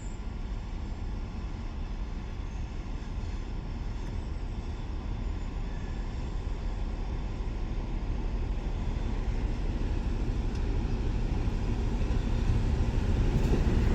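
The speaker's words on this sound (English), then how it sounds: "this right here is the Midland Pullman HST. It is a luxury high-speed charter train operated by Locomotive Services" Midland Pullman HST, a luxury high-speed charter train operated by Locomotive Services, rumbling past with steady broadband roar and rail noise that stays loud throughout, no talking.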